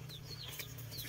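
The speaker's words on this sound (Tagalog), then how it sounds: "Oh, may mga manok." Chickens on a small farm beside a shade house give a few faint clucks and short calls over a steady low hum, fairly distant and brief.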